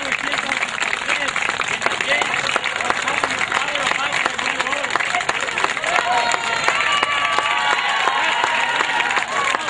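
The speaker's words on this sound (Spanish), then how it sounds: "Un fuerte aplauso para los niños." Clapping and cheering for schoolchildren at a school's 48th anniversary celebration in Sinaloa. Dense crowd noise runs continuously under a voice speaking over it, with scattered claps and shouts.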